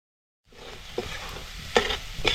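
Freshly grated coconut and coriander are stir-fried in a pan over a wood-fired stove, a soft sizzle starting abruptly with a few scraping stirring strokes close by.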